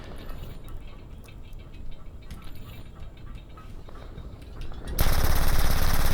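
Automatic gunfire in Medal of Honor: Airborne, a World War II shooter, rattles in quick repeated bursts at moderate level, then a sudden loud wash of broadband noise takes over near the end.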